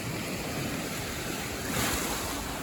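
Continuous roar of surf on the tidal beach at Aow Yai on Koh Phayam, a dense steady wash of waves mixed with wind noise on the microphone, swelling slightly near the end, with no voices.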